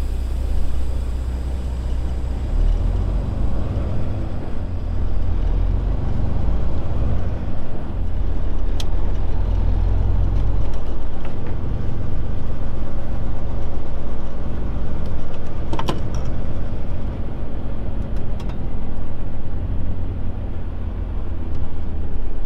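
Heavy diesel rumble of a Peterbilt 379 truck hauling nearly 44,000 pounds, a steady low engine drone with road and wind noise running continuously and loudly throughout, no talking.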